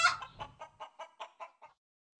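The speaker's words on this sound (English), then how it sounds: "Chicken." A chicken clucks in a quick series of about eight short, evenly spaced clucks that gradually fade, close and alone with no other sound.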